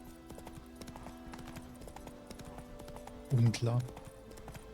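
Roach, the horse in The Witcher 3: Wild Hunt, gallops with a steady, rhythmic clip-clop of hooves over game ambience, and someone speaks briefly near the end.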